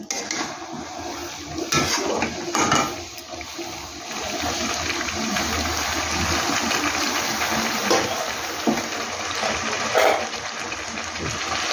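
Water poured into a pan of fried coriander chicken, a steady broad hiss and gurgle with a few brief knocks and clatters, continuous and fairly close.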